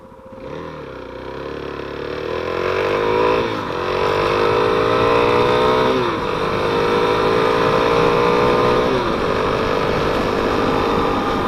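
Suzuki DRZ motorcycle riding on a cold, sunny day, its engine droning loud and steady throughout with rising and falling revs and brief dips at gear changes, no talk.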